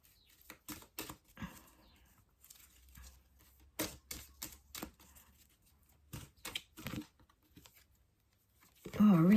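Oracle cards are drawn from a deck in a series of quiet, scattered shuffling and slapping noises at close range, with a voice entering at the very end.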